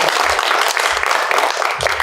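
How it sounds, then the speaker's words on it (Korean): Audience applause for a professor at the close of a lecture at a basic income forum in Incheon: dense, steady clapping from a crowd, loud and close, filling the whole moment without a break. "교수님 큰 박수 한번"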